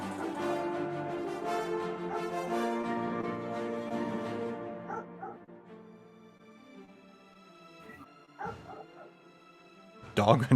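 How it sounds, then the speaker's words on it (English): Goodwill, a pet dog in the house, lets out a run of loud yipping, whining barks that taper off, then a few sharp barks return near the end, mixed with voices talking in the room. "that's my dog Goodwill. He is very loud."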